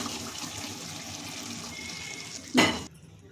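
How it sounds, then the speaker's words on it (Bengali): Water is poured in a short gush into a pot of chicken curry that has been cooking for about five minutes, rising over low kitchen background and lasting under half a second before stopping abruptly. "আমি এবার দিয়ে দিচ্ছি বাটি ধোয়া জল।"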